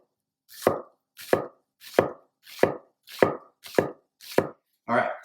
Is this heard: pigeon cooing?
no